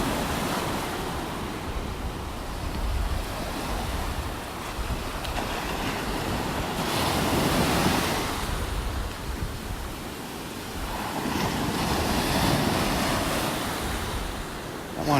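Waves washing onto a beach in North Naples, Florida, broad surging swells that rise and fade every few seconds, with some wind buffeting the microphone and no talking.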